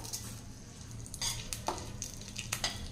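Cinnamon, star anise, fennel and bay leaf splutter in hot oil, a quiet sizzling bed punctuated by bursts of crackling pops and a few utensil scrapes.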